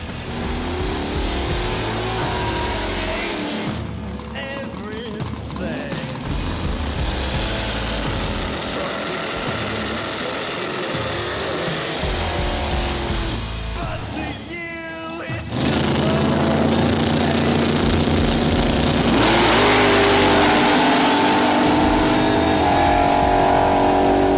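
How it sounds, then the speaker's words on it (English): Street race between a Nova and a Mustang: a steady din of idling and revving engines with crowd noise, then a sudden loud surge as the cars launch and accelerate away at full throttle. "Race number 7 is Midnight Joe in the Nova versus Easy Money in the Mustang."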